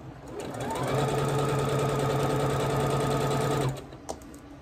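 A sewing machine stitches red quilt blocks together for a Red Dazzle quilt, running in one steady, close, continuous burst of about three and a half seconds before stopping.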